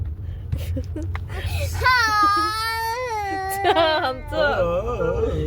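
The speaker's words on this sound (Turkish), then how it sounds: "ağlama" A young child cries with long, wavering wails and whimpers that rise and fall over several seconds, close and fairly loud, while an adult speaks nearby.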